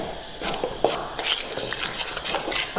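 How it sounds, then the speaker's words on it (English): Dry cake ingredients for a homemade vegan cake being mixed in a bowl, with repeated light clinks and scrapes of a utensil against the bowl at an irregular rhythm, close and fairly quiet. "Mix it well so that all the ingredients are mixed properly."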